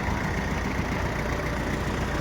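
A makeshift jugaad tractor engine idles with a constant rough, noisy rumble, steady and close with no change in pace over the short stretch.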